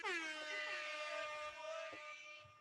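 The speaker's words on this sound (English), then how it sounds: "you have the samples and stuff like the air horn" A loud, blaring air horn blast with rich stacked harmonics, sustained for over two seconds and tapering off at the end.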